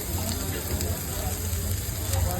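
Masala fries in hot oil for an egg kheema dish, a steady close hiss and crackle of sizzling.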